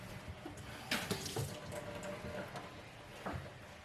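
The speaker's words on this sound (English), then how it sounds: "Why do we have water? Oh, this is a little bit drippy." Water drips and runs from a tap in a new house, a steady wash of flowing water with a few brief louder splashes or drips breaking through, close by and without talk.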